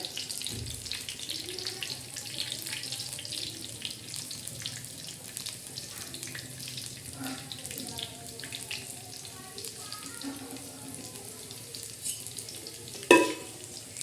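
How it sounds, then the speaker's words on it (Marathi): Hot oil tadka for a sweet and sour raw mango chutney sizzles steadily as tempering cooks in a pan, a continuous close crackle with faint clinks and a sharp knock near the end. "आता हा तडका दिलेला आहे आपण बघा"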